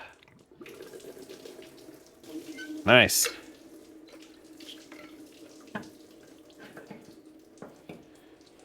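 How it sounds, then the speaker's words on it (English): Coolant dripping and trickling from a 2000-2005 Toyota Celica engine after water pump removal, a faint continuous watery trickle with one brief louder gush, a short spoken word over it. "We'll just let that drip for a little bit and take a water break."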